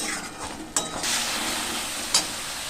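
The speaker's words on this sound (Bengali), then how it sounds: "এবার বেটে রাখা মশলাগুলো দিয়ে দেবো দিয়ে দেবো লবণ হলুদ মশলাটাকে খুব ভালো করে কষিয়ে নেবো" Ground spice paste with salt and turmeric being stir-fried with fried onions, a steady close sizzle broken by two sharp metallic clinks of a spoon against the pan.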